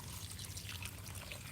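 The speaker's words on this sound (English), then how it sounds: "We're gonna water everything we can, since they didn't get water yesterday." Water runs steadily over garden plants in a faint, continuous splashing hiss with no voices.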